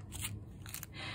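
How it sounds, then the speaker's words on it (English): Scissors trim fabric on a stitched textile collage, a few soft, close snipping and rustling strokes over low background hum. "So I've trimmed a bit of the fabric off here and here"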